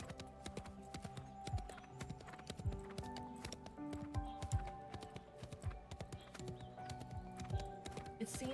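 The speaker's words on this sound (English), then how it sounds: "He remains calm and spurs the horse forward." Horse hooves clip-clopping at a steady gallop through a Love & Deepspace battle scene, a rhythmic thudding pattern under a sustained musical backdrop with no talking.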